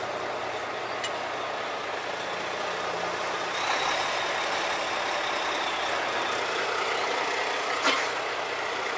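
An Estes Express freight truck slowly backs into a tight loading dock, its engine rumbling low and steady under a faint backup beep, with a sharp air-brake hiss near the end.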